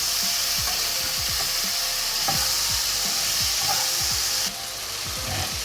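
Tomato frying in a pan, a loud constant hiss of oil with a run of short scraping stirs, close up, the sizzle dropping slightly toward the end.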